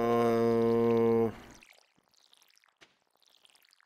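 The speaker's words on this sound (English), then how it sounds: "And then we'll water them." Crops in Stardew Valley are watered from a watering can: a sustained sustained tonal chime fades out, then a light, sparkling trickle of splashing water follows, quiet and intermittent, with no voices.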